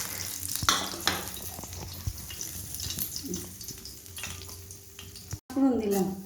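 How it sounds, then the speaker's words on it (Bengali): Green chilli and garlic paste tempering in hot oil in a pan while cooking Bengali fish curry, a steady sizzle with stirring clatter and a brief burst of louder frying near the end. "ফোড়ন দিলাম, কাঁচা লঙ্কা আর রসুন 2 কোয়া বাটা দিয়ে দিলাম"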